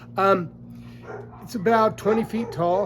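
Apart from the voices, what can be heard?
dogs barking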